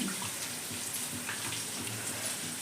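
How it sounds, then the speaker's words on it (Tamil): Tomatoes squeezed by hand into tamarind water for a spicy fish curry give a steady wet squelching and sloshing, close and fairly quiet, with no talking. "தக்காளி பழம் ரெண்டு எடுத்து புளியிலே புழிஞ்சு விட்டுக்கோங்க"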